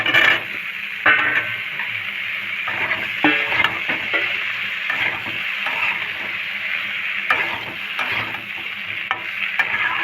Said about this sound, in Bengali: বেগুন আর কলা দিয়ে দেবো।